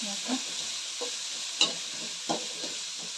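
Onions frying in oil in a pan for moong bean khichdi, a steady bright sizzle with occasional soft stirring knocks, close and continuous with no talk.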